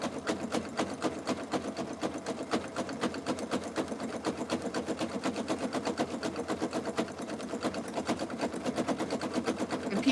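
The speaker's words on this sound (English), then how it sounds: "now I'm just gonna sew here by myself this year" A sewing machine stitches a jelly roll rug in a steady, fast needle rhythm that runs continuously and close up, with no voices over it.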